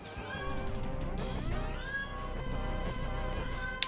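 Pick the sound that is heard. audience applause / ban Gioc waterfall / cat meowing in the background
cat meowing in the background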